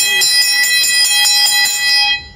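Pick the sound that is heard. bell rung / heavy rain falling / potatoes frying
bell rung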